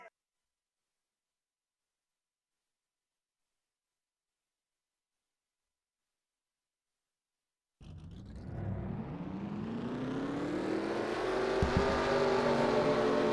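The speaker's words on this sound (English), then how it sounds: "Drivers, start your engines." Race car engines in a NASCAR-style racing video game at Oswego start abruptly after a long silence, then build into a loud, rising rumble as the field of 42 cars rolls off together.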